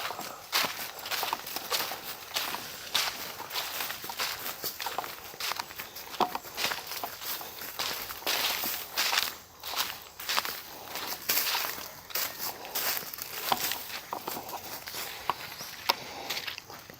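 Steady footsteps crunch along a dirt shortcut trail at a forest temple in Surin, Thailand, a continuous walking rhythm of close, scuffing steps with no talking.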